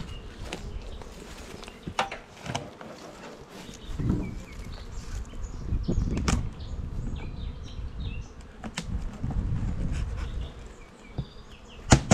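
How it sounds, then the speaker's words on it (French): Honeybees buzz steadily around farm beehives in spring, a continuous droning hum with louder passes of individual bees close by, heard alone outdoors. "aujourd'hui visite des ruches de la ferme du Bois Valant"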